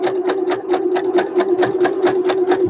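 Sewing machine stitching across a fabric runner, a fast even run of close, loud mechanical stitch beats with a steady motor hum underneath.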